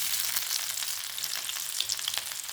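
Cumin, mustard seeds and chopped onion hit hot oil for a tomato sambar, giving a loud, dense, continuous sizzle with crackling pops throughout and no voices.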